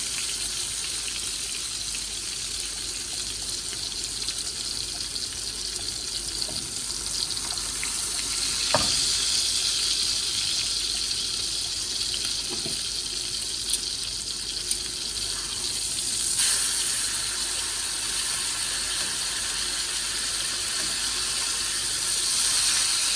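Butter sizzles steadily in a hot pan around a Cajun-seasoned ribeye steak, a bright continuous hiss close up with a few small pops and clinks throughout.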